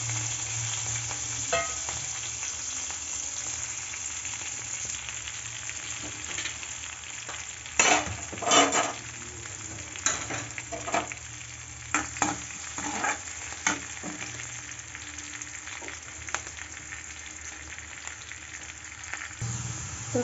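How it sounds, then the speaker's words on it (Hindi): Cumin, asafoetida and a little chilli fry in hot oil, giving a constant close sizzle broken by sharp spoon scrapes and stirring knocks against the pan. "यहाँ पे मैंने डाल दिया जीरा और डाल दिया हींग, और मैं डाल दूँगी थोड़ी सी मिर्ची।"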